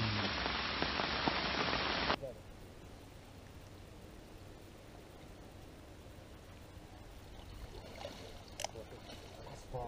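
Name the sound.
rain falling at a lake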